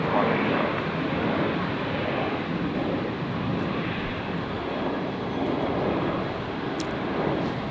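Qantas airliner landing on the right runway at Brisbane airport, a broad continuous jet roar holding steady throughout at moderate distance with no talk over it.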